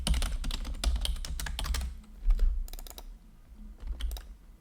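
Rapid typing on a new computer keyboard, close and crisp bursts of key clicks with short pauses between runs.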